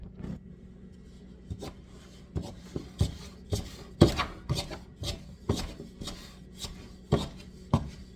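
A knife chops through Guinness bacon biscuit dough on a board, a series of sharp, irregular thuds and taps close by, with no talking.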